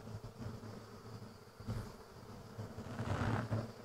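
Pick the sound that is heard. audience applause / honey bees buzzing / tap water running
honey bees buzzing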